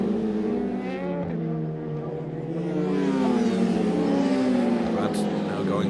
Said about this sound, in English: That's Joe Grant on the multicoloured bike going through to start another lap.